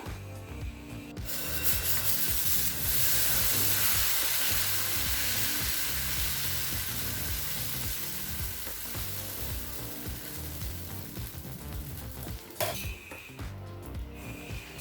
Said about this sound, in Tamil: இப்போ தோசைக்கல் சூடாகிடுச்சுங்க. நம்ம தோசை ஊற்றிடலாம்.